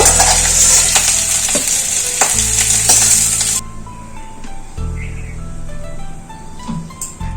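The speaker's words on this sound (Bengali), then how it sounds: "আলুগুলো দেখুন একটু লাল লাল করে ভেজে নিলাম" Potatoes frying in hot oil in a home kitchen, a steady loud sizzle with stirring clinks, the sizzle dropping away partway through to quieter pan sounds.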